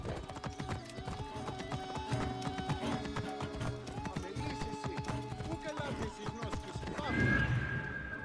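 A horse in Assassin's Creed Origins gallops with rapid, rhythmic clip-clop hoofbeats on hard ground, then neighs loudly near the end, set against a background of game ambience.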